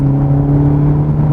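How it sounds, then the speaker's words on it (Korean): Hyundai Avante N facelift with manual gearbox holding third gear around 3000 rpm, its engine a steady close, loud drone with strong low harmonics and an even hum, no voices. "여기서 엑셀링 해볼게요."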